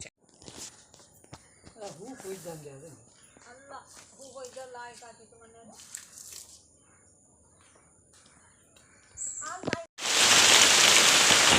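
People talk for several seconds, then a sudden loud, steady roar of heavy rain drowns everything out.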